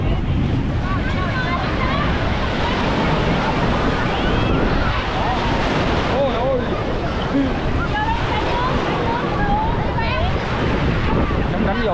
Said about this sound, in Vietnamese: Lâu lâu có mấy cái đợt sóng lên cao lắm.